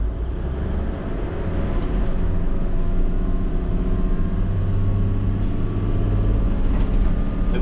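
A 1993 Toyota Coaster bus with a 4.2 liter inline-6 turbo diesel drives along, its engine producing a loud, smooth, continuous low rumble mixed with road noise throughout.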